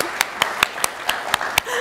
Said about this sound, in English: let's applaud these people too.